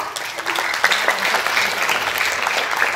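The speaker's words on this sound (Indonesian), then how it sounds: "Untuk itu kita undang kedua narasumber dengan aplaus yang meriah." An indoor audience at a national dialogue event claps to welcome two speakers onto the stage, a loud, dense burst of applause that holds steady throughout.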